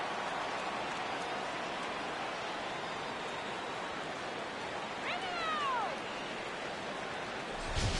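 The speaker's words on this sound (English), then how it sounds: "This may have something to do with the rain that's falling out there." Steady hiss of rain falling on the field in a St Louis Cardinals baseball video game, continuous and even, with a brief meow-like cry briefly rising above it.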